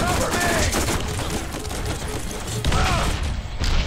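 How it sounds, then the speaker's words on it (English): Rapid SMG gunfire in Borderlands, loud dense bursts of shots with clattering mechanical thuds, continuous through the moment with a brief lull before the shooting resumes, and a voice speaks over it. "I'm just gonna grab out this SMG"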